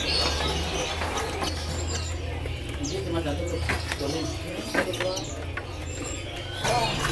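A white-headed Poksai Haji laughingthrush at a bird market calls in short repeated notes amid busy background noise, while people talk nearby.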